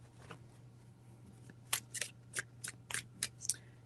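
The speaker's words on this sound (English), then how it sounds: "Three shuffles." Tarot cards are shuffled by hand: after a quiet start, a quick series of crisp riffling snaps arrives close to the microphone in the second half, about seven or eight short bursts.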